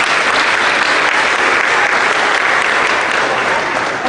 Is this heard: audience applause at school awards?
yes